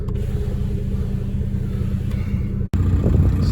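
An Audi A3 with rusty brakes drives a short loop, its engine and road rumble a steady, fairly loud low drone from inside the car, briefly cut off near the end before resuming.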